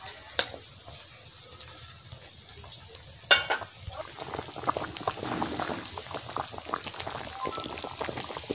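A fish head cooks in oil with salt and green chillies, giving a quiet, steady bubbling sizzle close by, with a few sharp clinks and scrapes of a utensil against the pan.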